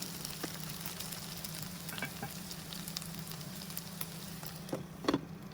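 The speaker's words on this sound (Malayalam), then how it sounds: "ഇതൊന്നുകൂടെ ഒന്ന് ഫ്രൈ ആയി വരട്ടെ" Payyoli-style chicken fries in a pan with a quiet, steady sizzle over a low hum, with a few louder pops and scrapes near the end.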